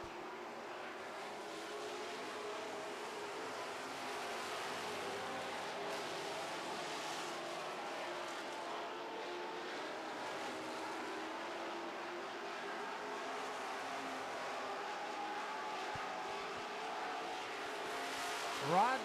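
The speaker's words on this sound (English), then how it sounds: "No pressure from Paul Beard in the 88 car" Super stock race cars roar around an oval track, a steady distant engine drone that rises and falls as the pack passes, with faint commentary underneath.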